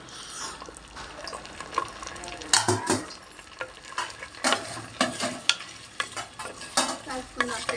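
Carrots and potatoes stirred and fried in a pan for vegetable biryani, with clattering spoon scrapes and bursts of sizzling over a steady frying hiss, close and fairly loud, no voices.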